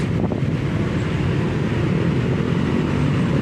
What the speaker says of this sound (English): You got to talk loud to hear over all this traffic noise.